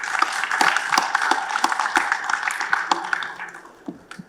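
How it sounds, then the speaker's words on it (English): An audience claps for a panel at an evening event, a fairly close round of scattered, rhythmic applause that thins out toward the end. "I think we need another round of applause for two ladies in this panel."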